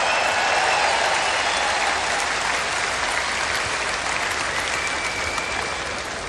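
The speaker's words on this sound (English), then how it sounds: "Another big round of applause for her." A large convention hall crowd at the Republican National Convention keeps up a broad, roaring wall of applause at a steady level, tapering only slightly toward the end.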